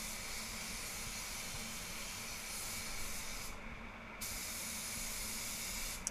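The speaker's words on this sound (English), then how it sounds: "it's very efficient spray gun there" Continuous loud hiss of a DeVilbiss GTI Pro spray gun spraying paint on a BMW X1, steady throughout with a brief change in tone midway, no talking.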